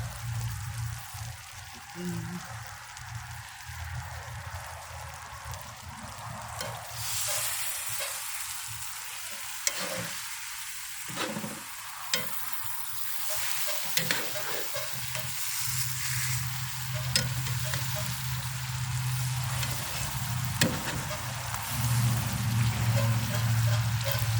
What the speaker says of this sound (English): we got us some steaks cooking